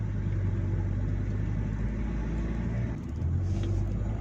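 Engine of a Maxus G-10 SUV droning under a floored throttle on a test drive, a continuous low rumble from inside the cabin with a brief dip near the end as the transmission downshifts.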